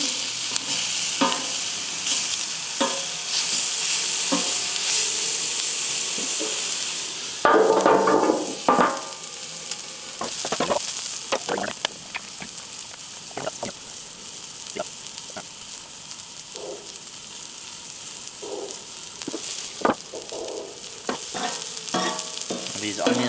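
Onions fry in a hot pan while being stirred, a steady sizzle broken by scraping and clattering utensil strokes that come irregularly, near and moderately loud, with no talking.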